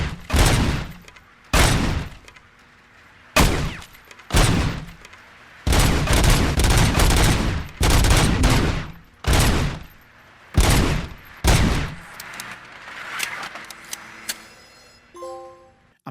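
Gunfire rings out at a shooting range in Robocop Rogue City, with repeated loud bursts of rapid shots separated by brief pauses, followed by a few faint electronic beeps at the end.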